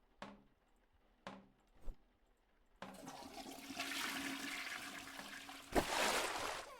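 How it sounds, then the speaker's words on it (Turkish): A few soft clicks and taps, then a toilet flushes in a video game with a loud rushing swirl of water that surges again before fading. "Al sifonu çekelim bir de."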